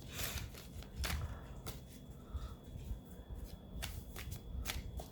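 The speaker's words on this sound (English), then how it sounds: "so I'll give the cards a bit of a shuffle" Cards being shuffled in several quick riffling bursts, close and crisp, with short pauses between shuffles.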